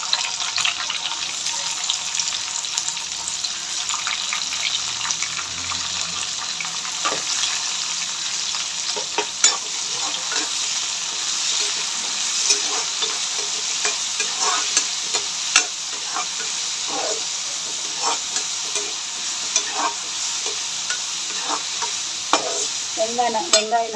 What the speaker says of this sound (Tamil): இப்போ பார்த்தீங்கன்னா நம்ம வெங்காயம் நல்லா வதங்குது ஃப்ரெண்ட்ஸ்